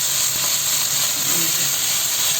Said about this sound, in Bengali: এবং দিয়ে দেবো কিছু গুঁড়া মশলা।